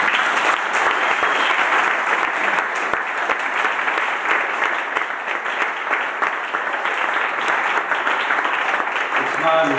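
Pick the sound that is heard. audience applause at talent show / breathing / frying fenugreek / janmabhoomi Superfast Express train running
audience applause at talent show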